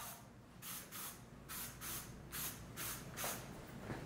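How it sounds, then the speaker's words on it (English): Several short, soft hissing sprays of Brawler hair styling product, six or so quick bursts in an uneven rhythm, close and quiet with no talking. "A few little sprays."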